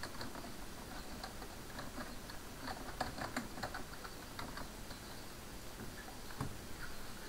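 Keystrokes on a computer keyboard typing a search into Windows 8 settings, heard as quick faint clicks in short bursts over a low room hiss.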